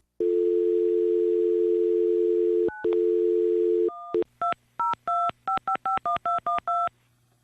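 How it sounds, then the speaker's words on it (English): A telephone call being placed to a Republican headquarters: a steady dial tone, then a rapid series of about ten touch-tone keypad beeps in an irregular rhythm, loud and close with no talking. "let's get them on the phone right now"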